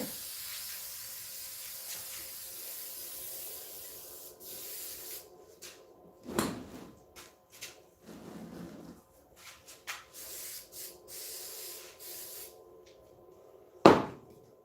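A spray can sprays an unpainted Demogorgon prop, releasing several short, breathy hissing bursts separated by quiet gaps. The sound is close and fairly soft, ending with a brief sharp click.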